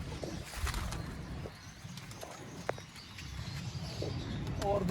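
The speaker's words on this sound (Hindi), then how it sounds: "परिंदे बहुत बहुत अच्छे आ रहे हैं नबील भाई" Pigeons of fancy breeds are kept outdoors, with soft, faint cooing and light bird sounds over a low background rumble.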